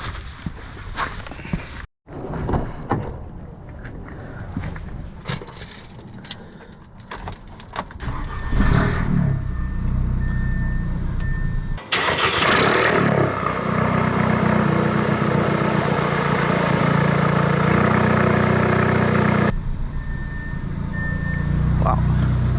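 An Audi A3 with a Stage 2 tune fires up after some footsteps and handling noise, then settles into a loud, steady idle drone that runs close by to the end.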